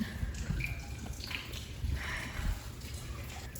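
Water drips and trickles faintly and unevenly into an echoing cistern, over a low background rumble.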